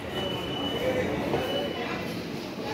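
A metro train rumbles at Howrah metro station, faint and steady, with a thin high whine and some soft, indistinct voices in the background.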